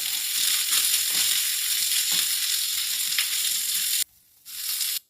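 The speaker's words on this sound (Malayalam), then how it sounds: "ഓയിൽ നന്നായി ചൂടായി വരുമ്പോൾ നേരത്തെ മിക്സ് ചെയ്ത് മാറ്റി വെച്ച ചിക്കൻ ചേർത്ത് നന്നായി ഫ്രൈ ചെയ്തെടുക്കുക" Pre-cooked chicken fries in hot olive oil in a pan, giving a steady, close hiss of sizzling with faint scraping, then a sudden drop to near silence before the sizzle briefly returns.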